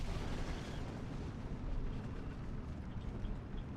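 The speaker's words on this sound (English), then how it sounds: "the last artillery strike, I think, coming down from that off-map" An off-map artillery strike in Steel Division 2 rumbles as a dense, continuous low roar of explosions, distant-sounding and fairly faint, with no talk.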